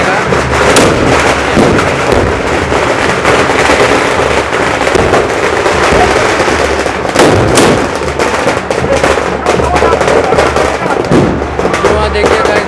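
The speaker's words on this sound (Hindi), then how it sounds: "देखिए बंदूकें ही बंदूकें, चारों तरफ बारूद, कान के पर्दे फट गए थे।" Guns and gunpowder go off nonstop at the Barood ki Holi festival in Menar, village of Rajasthan, a dense roar of blasts and cracks from all sides, loud and close, with a crowd shouting beneath.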